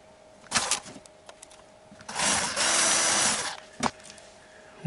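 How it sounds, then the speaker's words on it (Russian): A cordless drill-driver whirs in a sustained burst of about a second and a half while unscrewing bolts during a drain pump repair, with short clicks and brief spins before and after, close and otherwise quiet. "Сейчас помогу себе шуруповертом, чтобы побыстрее крутилось."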